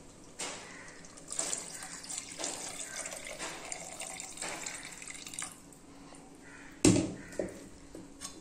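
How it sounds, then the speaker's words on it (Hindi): Soaking water from rice is poured into a cooking pot while making mutton biryani, a steady splashing trickle with a few louder splashes and clinks near the end. "அடுத்தது அரிசில இருக்கிற தண்ணி ஊத்தி"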